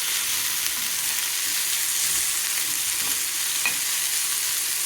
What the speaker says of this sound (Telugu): మనకి టొమాటో పీసెస్ తొందరగా మగ్గడానికి ఇట్లా గరిటెతో ప్రెస్ చేస్తే తొందరగా